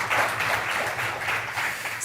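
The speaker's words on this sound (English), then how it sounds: "I think they deserve a warm round of applause." Audience applause at a summit session on green hydrogen in Africa, a steady wash of many hands clapping at moderate level that holds evenly for about two seconds, with no talk over it.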